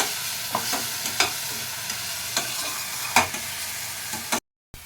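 Spices sizzle and fry in a pan with water just added, while a utensil scrapes and stirs in several sharp strokes. The sound is close and loud with no voices, and it cuts off abruptly near the end.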